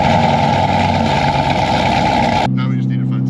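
Jeep Trackhawk with a built motor and a new exhaust roars loudly and steadily for over two seconds, then cuts to a lower, rumbling idle.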